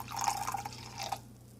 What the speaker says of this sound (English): So in the cup on the right, just going to pour a bit of vinegar in there